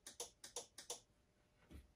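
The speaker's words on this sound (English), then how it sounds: "you can actually hear the starter relay still click whenever you push it" Five quick, light clicks from the starter relay of a Polaris Sportsman 90 ATV in an even rhythm, followed by a faint low thump; close by and otherwise quiet.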